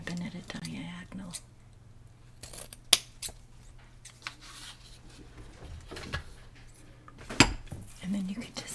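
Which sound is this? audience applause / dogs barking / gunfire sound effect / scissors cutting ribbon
scissors cutting ribbon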